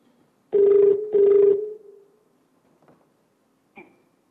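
A telephone rings on a TV game show for an incoming call: two loud, close electronic ring bursts in quick succession, then quiet with a couple of faint knocks. No talk.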